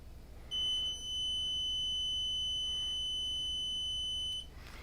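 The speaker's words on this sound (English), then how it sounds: "See if anything goes beep," A steady high electronic beep from a piece of test gear sounds while CPU power phases on an ailing HP laptop board are being probed, holding as one continuous tone for about four seconds before cutting off, clear over a quiet background.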